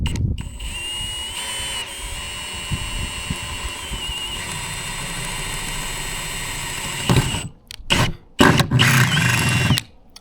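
Power drill boring a hole through the body of an AWD Sprinter van for a solar port, a steady close whine running for several seconds, then bursts of harsher grinding in stops and starts.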